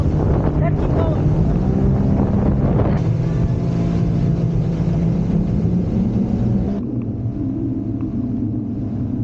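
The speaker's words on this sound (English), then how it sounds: "I know this exhaust is loud and obnoxious." Sea-Doo Spark Trixx jet ski with a loud exhaust droning steadily at close range, a heavy rumbling roar mixed with wind buffeting the microphone; the pitch shifts slightly as the throttle changes.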